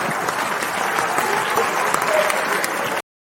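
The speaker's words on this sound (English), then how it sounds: "That's an applause break for being 3 times a grandpa." Studio audience bursting into applause, dense steady clapping for about three seconds before cutting to silence.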